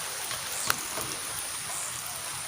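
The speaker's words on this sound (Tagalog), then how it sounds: "Patuloy lang po tayo sa ating pamimingwit kahit umuulan." Steady rain falling outdoors during fishing, a continuous soft hiss of drops with one sharper tap, even and unbroken throughout.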